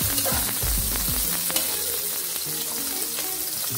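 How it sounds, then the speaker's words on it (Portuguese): Onion sautéing in a pan for a savory pie filling, giving a steady, close sizzle with crackling pops and soft scraping stirs throughout, no voices. "Vou enfogar a cebola."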